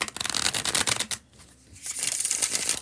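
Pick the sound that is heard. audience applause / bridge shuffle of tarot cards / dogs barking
bridge shuffle of tarot cards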